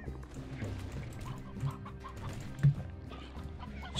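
A stony hen in the video game Slime Rancher clucks in short, soft bursts, with one sharper cluck standing out amid low ambient game sound.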